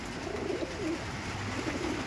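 Madras pigeons in a loft coo with low, throaty, rolling calls that repeat steadily and close by, with no talking.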